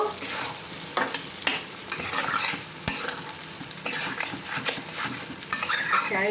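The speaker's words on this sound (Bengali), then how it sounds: "এবার এর মধ্যে আমি চিংড়ি মাছগুলো অ্যাড করে দেবো। দিয়ে একটু মিশিয়ে নেব।" Prawns go into a pan of hot gravy for prawn do pyaza and are stirred steadily, with a spatula clattering and scraping against the pan over continuous loud frying sizzle and no talking.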